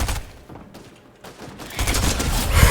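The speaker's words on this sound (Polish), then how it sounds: "ktoś tu się z kimś strzela" Rapid bursts of gunfire in the Fortnite video game, a loud volley that fades into a lull and then builds again into a dense, close barrage.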